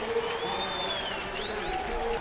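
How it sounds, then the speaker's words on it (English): Lacrosse crowd on its feet at Koskinen Stadium during the 2024 ACC men's game between Virginia and Duke, cheering and applauding in a steady, dense roar with a few whistles rising through it. "Crowd on their feet here at Koskinen."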